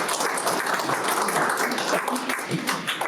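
Attendees at a community meeting for the Village of Estero give Steve a round of applause, a close, lively burst of many hands clapping that holds steady for about three seconds.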